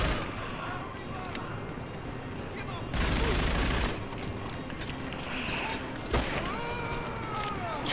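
Rapid gunfire in Grand Theft Auto V, crackling volleys of automatic shots with a louder burst midway, mixed with background action noise and no clear talk.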